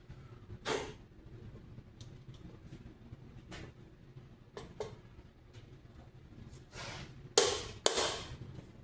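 A hammer strikes metal while a topfhelm, a medieval great helm, is assembled: scattered sharp knocks, a few single and some in quick pairs, the loudest near the end, over a quiet background with no talk.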